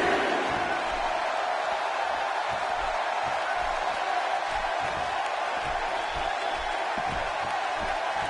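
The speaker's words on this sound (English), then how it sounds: "by the sound of this crowd, I think they're getting what they wanted" Steady, dense crowd roar from a WWE wrestling video game arena, a continuous wash of cheering and noise that holds level throughout with no clear peaks.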